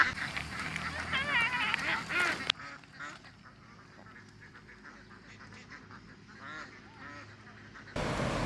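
Ducks in Ninh Binh, Vietnam quack in a loud, busy chorus for a couple of seconds, then fall to a quieter background of scattered calls before the noise swells again at the end.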